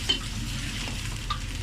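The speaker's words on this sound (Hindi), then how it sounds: "मिक्स करके अब इसको हम हिलाएंगे।" Chicken Manchurian being stirred in a pan, a soft steady frying sizzle with a couple of faint utensil scrapes, close and alone with no voices.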